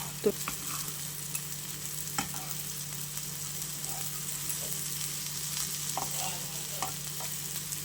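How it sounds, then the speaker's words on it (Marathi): Potato slices frying in oil in a pan, a steady soft sizzle with faint crackles and occasional light clicks of stirring, close and quiet with no talk. "पॅनमध्ये तेल टाकलेला आहे आणि आता आपण काप टाकून घेऊया"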